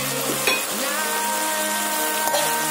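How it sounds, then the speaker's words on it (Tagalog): Fried tofu cubes sizzle and crackle in a hot pan while being stirred, a steady close frying hiss with a couple of soft scraping stirs. "ihalo na natin yung ating tofu na ating pinirito at iniwan natin ng cubes"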